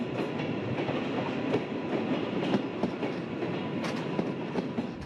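A train rolls along rails on a Mont Blanc mountain line, giving a steady, fairly loud rumble with faint wheel clatter and occasional brief squeaks throughout, and no voices.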